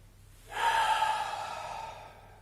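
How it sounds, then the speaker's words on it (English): A single strong, breathy inhale during a warm-up vinyasa yoga flow, close and fairly loud, swelling quickly and then tapering over nearly two seconds with no talk. "feeling you're getting towards your limit before taking that strong inhale"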